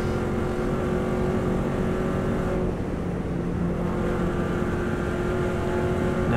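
A Subaru WRX STI runs flat out on an Isle of Man lap in sixth gear, its engine holding a steady, loud drone up close with a brief dip before pulling strongly again, mixed with road and wind noise.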